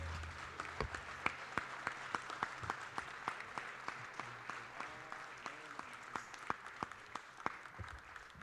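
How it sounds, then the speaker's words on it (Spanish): Church congregation clapping on a Sunday morning, a steady rhythmic beat of unison claps over a softer bed of scattered hands, continuing evenly throughout at moderate distance. "Le damos palmas a nuestro Dios en esta mañana"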